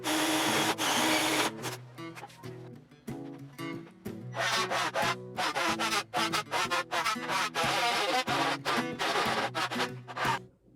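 A drill bores inspection holes through the wall of a tiny house under construction, with loud, repeated bursts of grinding of varying length separated by short pauses and no talk.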